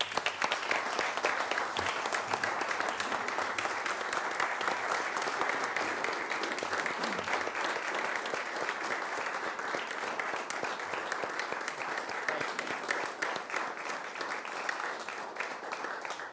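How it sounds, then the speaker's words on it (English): Sustained applause fills a city council meeting in Dublin, an even wash of many hands clapping for a retiree, heard from a distance at a moderate level. "We have a hand of applause"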